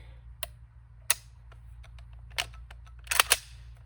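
Sharp metallic clicks and snaps from an unloaded SKS rifle during a function check: isolated action and trigger clicks at first, then a quick cluster near the end, close and crisp over a low steady hum.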